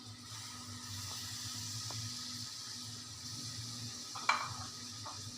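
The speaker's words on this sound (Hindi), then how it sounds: "मैंने अपना पैन गरम कर लिया है। अब इसके अंदर हम लोग डालेंगे सबसे पहले गाजरें, शिमला मिर्च" Carrots and capsicum frying in hot oil in a pan, a quiet continuous sizzle over a low steady hum, with a couple of faint utensil clicks and one louder scrape near the end, with no talk.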